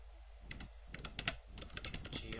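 Quick, close keystrokes on a computer keyboard, irregular clicks in short bursts for about two seconds during scenery design work.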